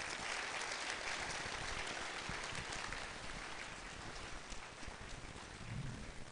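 A large audience applauds at the closing ceremony of the 11th summer school, a dense and continuous roar of clapping that holds steady throughout.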